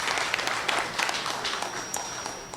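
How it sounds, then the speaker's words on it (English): An audience at a Ministry of Planning event on the San Fernando waterfront redevelopment in Trinidad claps in a loose, moderate patter that fades slightly, with a faint steady tone running underneath. "Please give them a round of applause"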